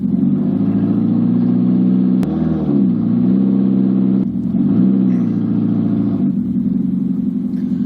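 A car engine sounds loud and throaty after its stolen catalytic converter was replaced. It holds a steady rumble close by, with two brief revs partway through and no voices.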